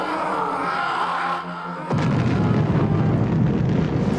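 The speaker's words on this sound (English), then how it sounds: "Nothing like destroying a big floating monkey head that results in an enormous explosion." Enormous explosion as a big floating monkey head boss is destroyed in Star Fox Adventures: after a tonal game sound, a sudden loud broadband blast erupts and roars on steadily to the end.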